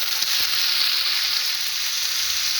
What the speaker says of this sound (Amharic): የሽንኩርቱንና የቅቤውን ጣዕም እንዲወስድ እያገላበጥን ትንሽ እንጠብሰዋለን።